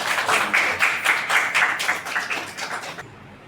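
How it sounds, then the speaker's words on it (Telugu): Audience applause at an award ceremony honouring a health officer, a dense burst of hand clapping lasting about three seconds before stopping abruptly. "చప్పట్లు కొట్టండి చప్పట్లు కొట్టండి"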